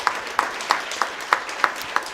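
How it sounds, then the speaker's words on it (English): A college meeting audience claps steadily in a large room, a rhythmic run of distinct claps at roughly even intervals over a soft crowd wash. "you all can clap as she walks up here"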